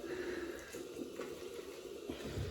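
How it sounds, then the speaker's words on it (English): Water trickles and splashes into a tub of Razorock XXX shaving soap as lather is worked up, a soft wet running sound that stays fairly faint and steady, with no talking. "So I'll add a touch of water."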